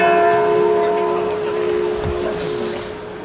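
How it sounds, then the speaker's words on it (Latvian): The bell of Riga Cathedral rings with a loud, sustained resonant hum that slowly fades, and a low rumble sits underneath. "Tieši doma zvans bija tas, kurš ieskandināja šo notikumu."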